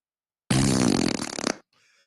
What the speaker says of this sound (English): That is correct use of the fart button.